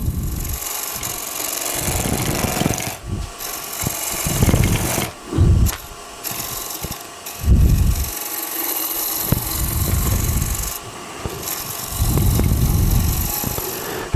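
Green wood bowl being turned on a lathe with a Hunter Hercules tool, giving bursts of rough scraping and cutting against a steady motor hum, with short pauses between passes.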